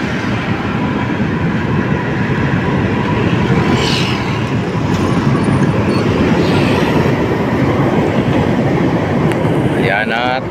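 LRT train rolling across the rail bridge over the Pasig River near MacArthur Bridge in Manila, a loud continuous rumble and rattle of wheels on track, with faint squeals.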